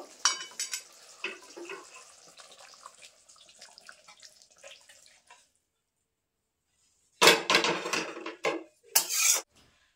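Cooked pabda fish curry, Bengali tel jhal, is poured out of a pan with a clatter of metal cookware and wet splashing, then a pause of near silence, followed by a louder burst of scraping and clanking near the end.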